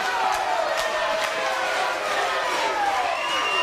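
A large arena crowd at a wrestling show roars and cheers in a steady, dense wash of noise that holds loud and unbroken throughout, with faint shouts rising out of it.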